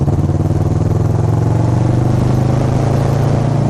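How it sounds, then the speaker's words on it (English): A motorcycle engine runs loud and close with a fast, even pulsing throb that holds steady throughout, no voices over it. "you pull the clutch in, you lay off the gas, and you shift with your foot by shifting up"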